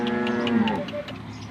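A cow at a farm where cattle are being sold lets out one long, loud, close moo that sinks in pitch and fades out, with no talking.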